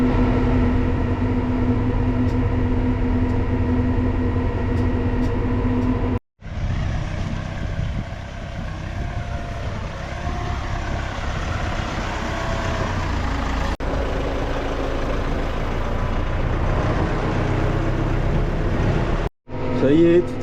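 A tractor engine drones steadily at close range during the Champagne grape harvest, cutting out briefly twice before resuming its low rumble.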